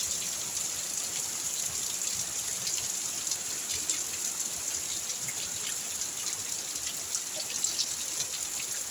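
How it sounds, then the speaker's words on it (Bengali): Steady outdoor rain falls beside a waterlogged field as an even, continuous patter and wash of drops, with no voices. "বৃষ্টি পড়েই যাচ্ছে।"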